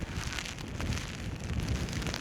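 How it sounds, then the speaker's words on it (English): Heavy rain driven by a blustery wind sweeps down a valley at Scarhouse reservoir in North Yorkshire, a dense, steady hiss and patter of moderate loudness with gusting texture and no voices. "And a nice blustery wind taking the rain down the valley there"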